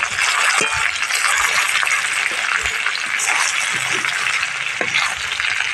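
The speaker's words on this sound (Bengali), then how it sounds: "ভালো করে লাল করে মাছগুলোকে একটা সাইড ভেজে নিয়ে একটা সাইড উল্টে দেবো" Hilsa fish sizzle steadily in hot oil in a pan, a dense, even hiss with faint crackles and occasional light clinks, close and continuous throughout.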